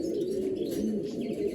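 Pigeons in a breeding loft give low, soft, steady cooing close by over a faint background hum, with no speech.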